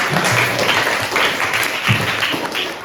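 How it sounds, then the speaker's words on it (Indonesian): Continuous applause from a group of students in a Quran lesson classroom, steady and fairly loud, with some voices mixed in underneath. "Tepuk tangan untuk Pak."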